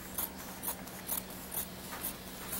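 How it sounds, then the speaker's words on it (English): Fabric is cut with scissors along chalk marks for a homemade top and skirt, a regular series of about six crisp snips spaced roughly half a second apart over a low, quiet background. "you're just gonna take your scissors and follow your chalk marks"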